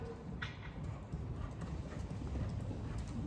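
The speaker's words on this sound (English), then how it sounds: "I'd follow that canter circle" A Lipizzaner horse canters on a circle during a dressage session, its hoofbeats a soft, steady clip-clop over a constant low rumble, fairly faint and without talk.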